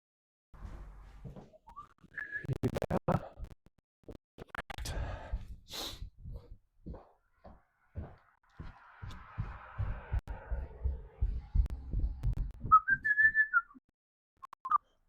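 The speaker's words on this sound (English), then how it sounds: "Whistle as I work" A person whistles a tune while working in a woodshop, shaping a guitar neck blank. Scattered scraping and tapping sounds from the work accompany the whistling, which is fairly quiet and close. There is no speech.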